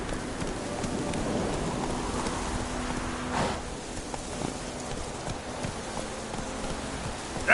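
Roach, a horse in The Witcher 3 video game, gallops with a continuous, rhythmic patter of hoofbeats over a dense background wash, moderately loud and without speech.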